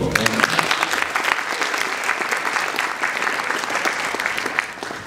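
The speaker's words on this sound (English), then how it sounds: "can we please get a round of applause for these people?" Audience applauding the organizers of an economics symposium in Boston, a sustained, even burst of many hands clapping that holds steady for about five seconds before starting to thin at the end.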